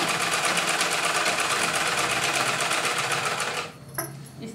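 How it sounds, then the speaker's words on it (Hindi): A sewing machine runs steadily close by, stitching fabric in a continuous rapid mechanical whir, then stops abruptly near the end, leaving a few faint clicks. "इस तरह से दो पॉइंट के हिसाब से सिलाई लगा रही हूँ।"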